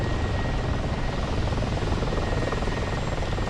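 A helicopter missing its tail rotor lifts off in the DCS flight simulator, giving a loud, steady rotor and engine roar that holds unchanged throughout, with no talking.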